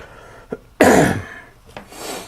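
A single harsh, raspy cough bursts out after a faint click, followed by a quieter breathy rasp; close and loud with no talking.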